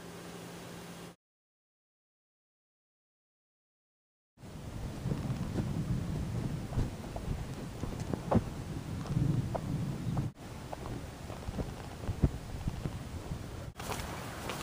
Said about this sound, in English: It's kind of raining, misting, but I hear lots of thunder